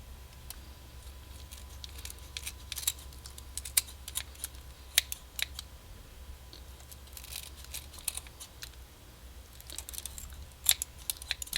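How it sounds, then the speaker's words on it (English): Quiet, irregular snips and crisp clicks of kitchen scissors cutting the legs off shrimp, scattered unevenly over a low background hum. "I'm going to use some kitchen scissors here and just cut off the legs"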